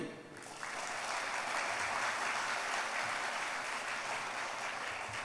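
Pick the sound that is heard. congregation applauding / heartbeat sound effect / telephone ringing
congregation applauding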